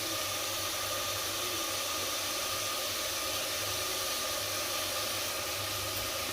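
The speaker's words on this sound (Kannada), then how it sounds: "ಈಗ ಅದು ಸ್ವಲ್ಪ ಫ್ರೈ ಮಾಡಬೇಕು. ಅದು ಸ್ವಲ್ಪ ಎಣ್ಣೆ ಫ್ರೈ ಆಗಬೇಕು." Vegetables frying in oil in a pan for soybean pulao, a loud, steady, dense sizzle that holds unbroken from start to finish with no talk.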